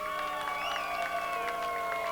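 A crowd at a late model race cheers and applauds the winner, a dense, steady wash of clapping and shouting with whistles and raised voices over it, holding at a constant level throughout.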